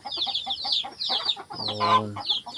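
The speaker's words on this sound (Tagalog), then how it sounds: "Dito sa bukid wala kang ibang maririnig kundi ang ingay ng mga manok" Farm chickens cluck near their coop, with a series of close, busy, overlapping clucks and one longer drawn-out call.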